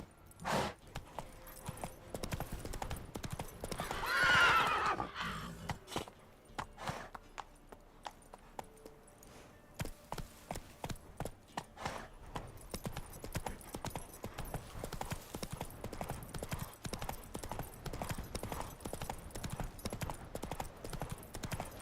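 In The Witcher 3 video game, a horse gallops in steady rhythmic hoofbeats over ground, with a brief whinny near the start, moderately close and continuing throughout.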